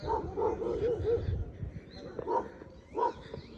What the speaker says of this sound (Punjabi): ਕੁੱਤੇ ਬਹੁਤ ਫਿਰਦੇ ਆ